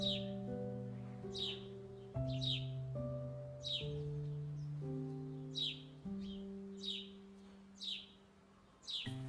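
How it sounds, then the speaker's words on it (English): Birds chirping in a backyard cottage garden set up with food and water: short, bright tweets repeat every second or so, quiet and close, over soft sustained background music. "after the birds have had a nice little snack, it's time for a drink"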